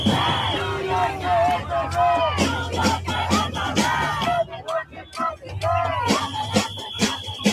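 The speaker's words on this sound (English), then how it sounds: "just look at the massive crowds that are flooding Times Square on that somber anniversary" A massive crowd packed into Times Square on a somber anniversary, yelling and chanting loudly and close by in overlapping bursts of voices, with one short lull before the roar returns.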